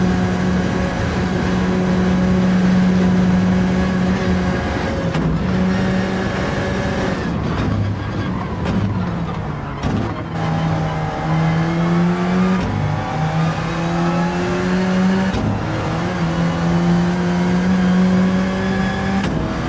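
Race car engines in Gran Turismo 7 during a Nürburgring 24-hour endurance race, loud revving tones rising and falling through repeated gear shifts over about twenty seconds, with no talking.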